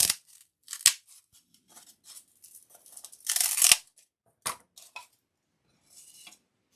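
Scissors cut through craft decor material for a fall farmhouse kit, with a series of short, close snips and crunching slices, one longer cut in the middle and quiet pauses between.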